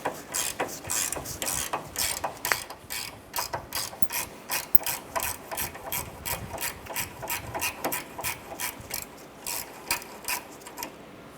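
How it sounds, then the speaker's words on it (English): Socket ratchet clicking rapidly in repeated strokes while loosening a nut with a 17mm socket on a 2008-2012 Honda Accord front lower control arm, a close, steady rhythm of sharp pawl clicks with no talking. "We use our 17mm socket and ratchet on this side here."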